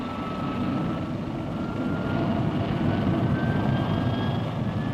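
Military aircraft of the 1954 Air National Guard, propeller and jet planes flying target-shooting runs, give a steady, loud engine drone that holds evenly throughout with no pauses.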